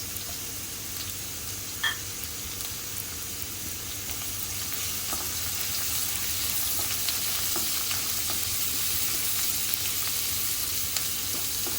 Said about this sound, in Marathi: कढीपत्ता घालते हिंग घालते